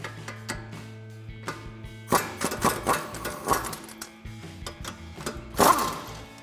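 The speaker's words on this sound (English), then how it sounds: "remove the two nuts holding our strut to our steering knuckle using our" Socket wrench with a 15/16 socket removing strut nuts from a Mustang steering knuckle, giving quick, close ratcheting clicks in bursts with sharper metallic bursts between, no talking.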